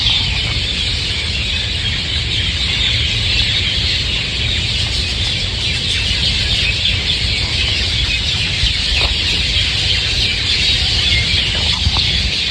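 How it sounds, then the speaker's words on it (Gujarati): A dense, constant chorus of birds chirps and calls, with possible faint clucking of chickens mixed into the steady outdoor din. "પક્ષીઓનો અવાજ સાંભળો ખાલી"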